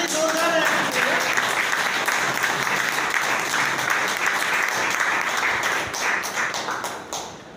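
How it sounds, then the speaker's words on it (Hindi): An audience at a business gathering breaks into loud, dense applause that holds steady for several seconds before tapering off at the end, with a voice faintly audible beneath. "ताली जोरदार रहनी चाहिए।"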